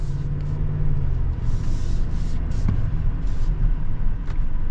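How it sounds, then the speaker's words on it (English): A 2023 GMC Yukon XL full-size SUV accelerating on the road, its engine giving a steady, loud low rumble over constant road and cabin noise, with no pause throughout. "Yeah, this powertrain's decently punchy, actually."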